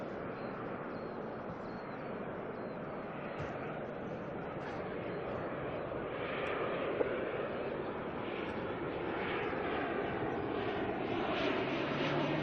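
An ATR turboprop airliner arriving from Nelson at Auckland Airport makes a steady, broad engine roar that swells slightly toward the end, fairly loud and continuous with no talk.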